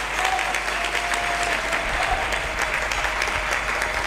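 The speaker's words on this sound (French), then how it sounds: "Nous acclamons pour ce Jésus." A church congregation applauds during a sermon, steady continuous clapping filling the room at a fairly loud level, with no pauses throughout.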